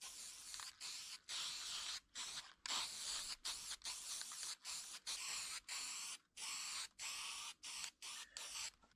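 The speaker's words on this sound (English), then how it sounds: "I'm gonna spray paint them all gold." Rapid short bursts of aerosol spray paint, gold, coating handles from a 1950s mid-century modern three-drawer dresser, hissing close and fairly soft in a quick irregular rhythm of brief pauses.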